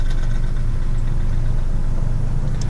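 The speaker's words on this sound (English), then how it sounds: "And we're idling." A Geo Metro car engine, converted to run on hydrogen and multiple fuels, idles steadily with a loud, constant low rumble that holds throughout, without talk over it.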